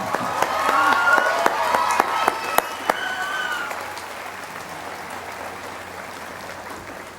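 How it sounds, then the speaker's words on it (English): Audience applause at a College of Agriculture commencement, with a crowd clapping warmly for a few seconds while one or two voices rise over it before it fades into a low hall hum. "And now, you may applaud."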